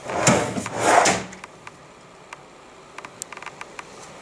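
A soft-close full-extension drawer on a desk cabinet pushed shut, two quick wooden rolling thumps followed by faint small clicks and ticks as it eases closed against the face frame.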